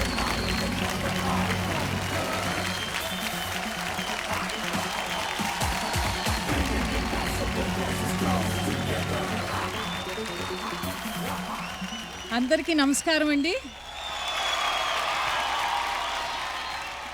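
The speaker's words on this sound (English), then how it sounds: "With a huge round of applause, let's welcome Rama ma'am on stage" A large crowd at a film promotion event in Mumbai applauds and cheers at length as a guest walks on stage, a dense sustained roar of clapping, with a woman then greeting the audience over the fading applause.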